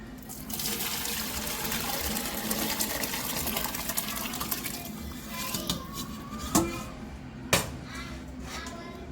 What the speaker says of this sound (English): We're going to pour very carefully the soup back in.